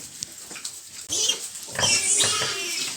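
Piglets squeal and grunt at close range, with a sharp outburst partway through that rises into continuous loud, high squealing, amid rustling and handling noise.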